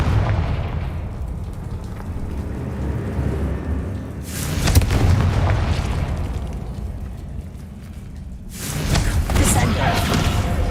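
Confringo fire spell cast in the Hogwarts Legacy video game, giving two loud bursting booms with sharp crackling onsets a few seconds apart over a steady rumbling game background.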